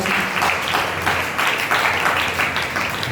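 A church congregation claps together in a sustained, fairly loud wash of applause with a faint pulsing rhythm, no voices standing out.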